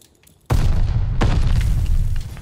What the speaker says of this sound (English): They blew me up, my boy.